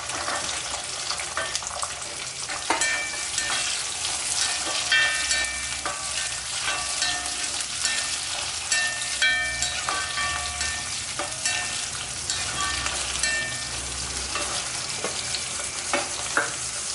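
Shallots and garlic fry in a pan for a Chettinad mushroom butter bean curry, a dense continuous sizzle with frequent light crackles and occasional stirring scrapes throughout.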